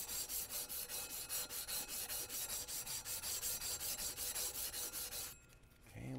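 Sandpaper rubbing residual rust off shotgun barrels in rapid, even back-and-forth strokes, close and steady for about five seconds before stopping.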